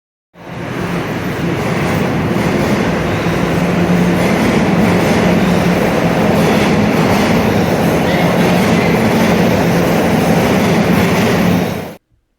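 A Toronto TTC subway train roars loudly and continuously for about ten seconds, with rumbling wheels and rattling cars close by, then cuts off abruptly.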